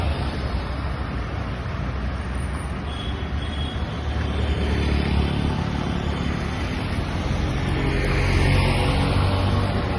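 A vehicle carrying a rider on a slow round, its engine a steady low rumble with road noise that swells louder toward the end.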